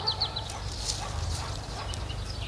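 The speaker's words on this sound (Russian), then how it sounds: "Вот такой вот петушок у нас. Красавец." A rooster makes short clucking calls outdoors over a steady low background hum, with faint scattered bird chirps.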